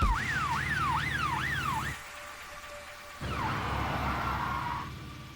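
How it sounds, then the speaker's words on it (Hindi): A police siren wails in fast rising and falling sweeps over traffic rumble, cuts out briefly, then a single slower wail swells back in. "वो तो पुलिस की गाड़ी है"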